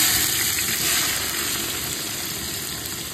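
Chopped onion hits hot oil already holding whole spices and sizzles with a loud, close, continuous hiss that eases slightly as it settles.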